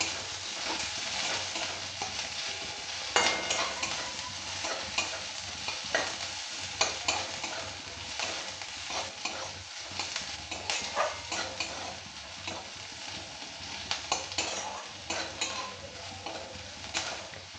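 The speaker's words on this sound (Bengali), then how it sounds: "নেড়ে চেড়ে একটু ভেজে নিতে হবে" Chopped onion frying in a pan for a sarse chinri (prawn) dish, a steady sizzle with repeated scraping and clinking of a spatula stirring against the pan, close and continuous.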